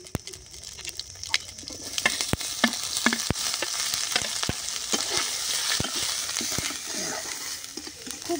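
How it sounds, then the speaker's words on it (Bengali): Grated ginger with chopped red and green chilies frying in a pan, a soft steady sizzle with scattered crackles and stirring scrapes, faint and close with no talk. "খুব ভালো করে এই আদা কাঁচা লঙ্কাটা ভেজে নেব, যাতে আদার একটা কাঁচা গন্ধটা না থাকে।"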